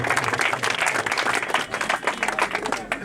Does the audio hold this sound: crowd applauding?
yes